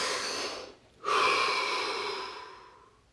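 A deep breath during a guided relaxation exercise: a sharp pause, then a long, close, breathy exhale that fades away over about two seconds, heard alone.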